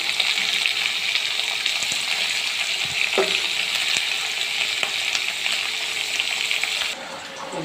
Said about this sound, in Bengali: প্রথমে কড়াইয়ে তেল নিয়েছি, সারা জিরে তেজপাতা ফোড়ন দিলাম, এরপর আমি যে সবজিগুলো কেটে রেখেছিলাম সবজিগুলো সব দিয়ে দিলাম